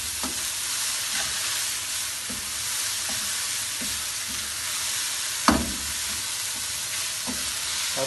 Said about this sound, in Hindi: स्पाइसेस ऐड करने के बाद हम इसे अच्छी तरह मिक्स करेंगे